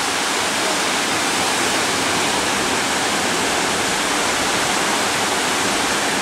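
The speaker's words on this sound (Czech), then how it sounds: "Opět vodopád." A mountain waterfall in the Tatras roars as a dense, constant wash of falling water, loud and close, with no speech.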